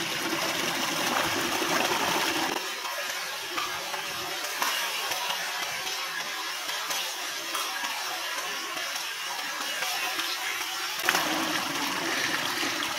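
Water in a mountain stream at Wadi-e-Janat rushes and gurgles in a steady, continuous wash. It is moderately loud and close, with no voices over it.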